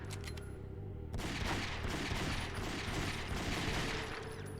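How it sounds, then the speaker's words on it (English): Gunfire at rats in the PS2 game Ghosthunter: a few sharp shots at the start, then a sustained loud rattling barrage with mechanical clatter that holds steady to the end. "that was just me shooting some rats"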